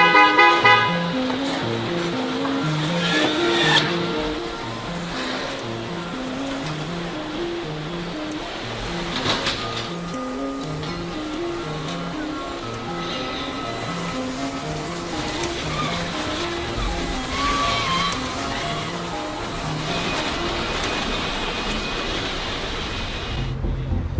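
City car traffic in China, a continuous close engine and road hum with repeated car horn toots scattered throughout, some short and some held, and no talking.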